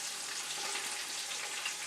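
Fish pieces fry in a pan with a steady, soft, close sizzle and no talking.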